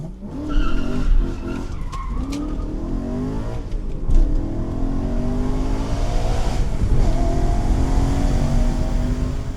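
A BMW E92 M3 with a V10 engine drives on a hot day at the Goodwood Festival of Speed, its engine revving and droning up and down continuously with a brief tire squeal.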